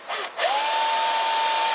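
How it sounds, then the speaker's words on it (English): A handheld power drill spins up after two brief bursts and then bores a hole in one sustained, loud whine at a steady pitch, heard up close. "Let's see if I can get this to drill through there real nice for me."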